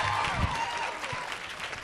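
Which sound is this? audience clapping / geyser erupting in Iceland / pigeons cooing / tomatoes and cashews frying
audience clapping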